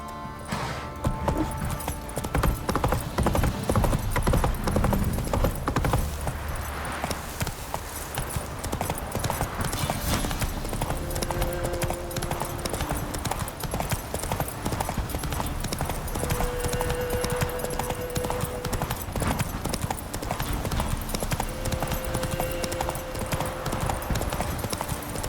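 A horse's hooves clip-clop steadily in The Witcher video game, a continuous trotting rhythm over outdoor ambience with occasional tonal game sounds.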